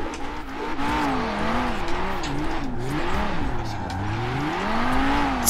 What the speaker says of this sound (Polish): Ja tu drifty uprawiam.